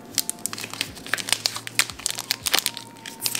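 EHPlabs Blessed protein bar wrapper crinkles close up, a dense run of sharp plastic crackles and rustles in irregular bursts, with no talking.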